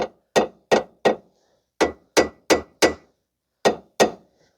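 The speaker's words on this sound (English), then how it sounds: "I just like to use a hammer on the edge of the control arm just to make sure it's in." Hammer striking the edge of the driver's side front lower control arm on a 2006 Mazda 3 with the 2.3 engine, ten sharp metallic taps in small groups with short pauses, close and clean with no talk.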